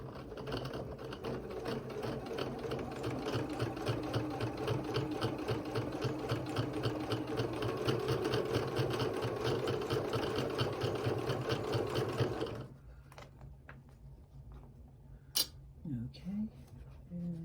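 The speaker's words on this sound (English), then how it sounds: "Sew down the prairie point." A sewing machine stitches down a fabric prairie point on a small bag with a steady, rapid mechanical whir and chatter for about twelve seconds, then stops; quiet handling noises and a brief voice follow.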